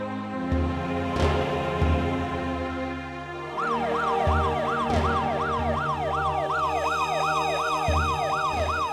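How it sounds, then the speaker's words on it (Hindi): An ambulance siren wails in a rapid, repeating up-and-down pattern, loud and close, rising in over low vehicle rumble after a few seconds. "एम्बुलेंस भी आ गई है"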